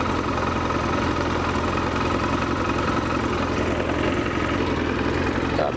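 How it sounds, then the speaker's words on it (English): Yamaha XJ900S motorcycle with a leaking fuel pump, the pump running as a steady close hum and vibration with a broad noisy buzz, continuous and even throughout. "here the pump's going"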